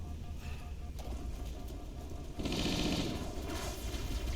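Rifle gunfire in the Halo Reach video game rattles in a rapid burst of shots, fairly quiet at first and growing denser partway through amid game background noise.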